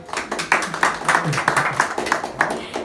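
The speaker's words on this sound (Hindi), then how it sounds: "भाई शिव जी के लिए जोरदार ताली बजा दो सर हमारे" Audience clapping loudly at a product presentation talk, a dense burst of many hands with uneven rhythmic peaks, close and strong for a few seconds.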